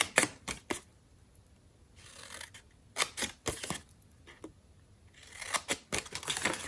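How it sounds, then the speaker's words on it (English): Scissors cut paper up to score lines for a Christmas star ornament: close, crisp snipping in quick bursts of several cuts, separated by short quiet pauses, with no speech. "So we are going to cut up to that score line on all 4 sides."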